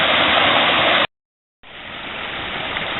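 A flooded river at crest level spills over its bank, giving a loud, steady rushing roar that cuts out briefly and then resumes a little softer, with no voices.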